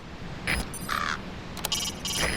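Ravens caw in the video game Metal Gear Solid V, with several harsh calls, some overlapping, over a steady outdoor background noise.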